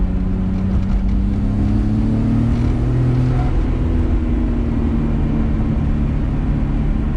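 A 1994 Nissan Skyline GTR with smaller turbos heard from inside while driving and accelerating, a loud steady engine drone with rising tones as it pulls through the revs, no talking.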